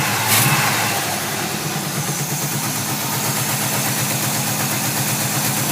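A 1950 Plymouth Deluxe with a 350 V8 and long tube headers runs steadily, its loud, close engine holding a rough, pulsing idle with a sharp burst near the start and no talk over it.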